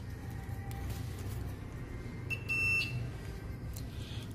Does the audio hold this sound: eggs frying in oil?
no